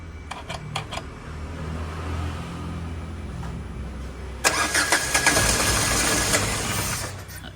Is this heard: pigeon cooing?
no